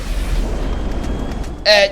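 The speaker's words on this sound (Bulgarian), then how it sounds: "То се взриви." A low, rumbling in-game explosion from GTA 5 Online rolls through the first half, then fades under background game noise before a short burst of voice near the end.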